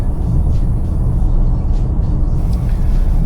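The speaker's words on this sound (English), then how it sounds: "The exhaust is pretty throaty for just a little 4-cylinder turbo." Steady low-pitched exhaust drone from a 2020 Range Rover Evoque's 4-cylinder turbo engine, a continuous throaty rumble heard close and loud with no talking.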